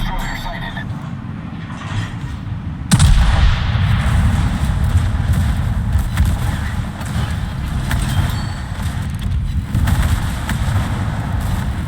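Naval gunfire from a warship in a video game, a sharp loud boom that gives way to a sustained rumbling roar and crackle over background noise.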